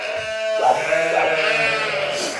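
Sheep bleat in a barn at lambing time, several close, loud, wavering calls following one another in quick succession.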